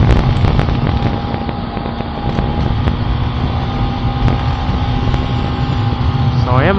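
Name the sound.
strong wind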